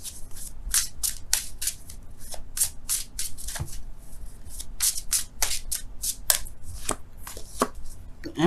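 Tarot cards being shuffled and drawn from a deck: a steady run of crisp, papery flicks and slaps, close and fairly quiet, repeating in irregular bursts with no voices.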